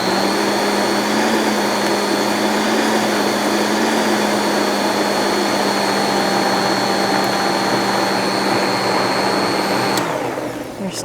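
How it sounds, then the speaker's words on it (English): A blender runs continuously on lentils, a loud, steady motorized whir with a constant high whine that holds for about ten seconds before winding down abruptly at the end. "I'm going to give it a blend and then see how thick it is."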